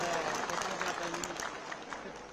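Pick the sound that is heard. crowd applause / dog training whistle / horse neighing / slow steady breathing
crowd applause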